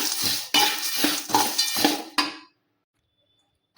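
Metal spoon or spatula scraping and clinking in a pan while cumin and ajwain are stirred for chakli flour, about five rhythmic strokes in quick succession, close and fairly loud, then silence.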